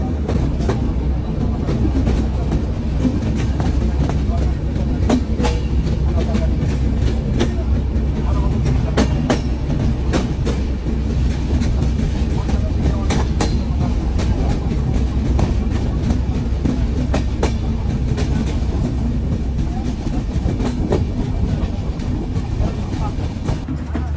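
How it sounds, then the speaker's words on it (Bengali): Kapotaksha Express passenger train running between rural stations toward Khulna, heard from on board: a steady, loud rumble of wheels on rails with rhythmic clicking and carriage rattle throughout. "আমাদের ট্রেন কিন্তু আবারও ছেড়ে দিয়েছে তার পরবর্তী গন্তব্য যশোর স্টেশনের উদ্দেশ্যে"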